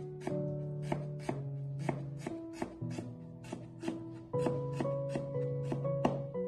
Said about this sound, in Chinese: 切成薄片，然后再切成姜丝，最后全部切成姜末